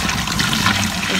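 Water drains away from a bucket while golden sand is being washed, making a continuous gushing, trickling rush at close range with no talking.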